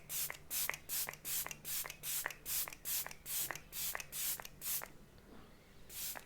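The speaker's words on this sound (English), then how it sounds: "It's a non-sticky oil-free setting spray." Repeated quick spritzes of a non-sticky, oil-free makeup setting spray, about a dozen short hissing bursts in steady rhythm, close and fairly quiet, then a pause and one more spray at the end.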